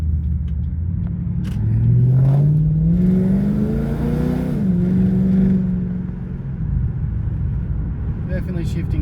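A Ford BA XR8 after a transmission service, engine note rising as it accelerates then dropping with a gear change before pulling again, recorded from inside the car with a person talking over it.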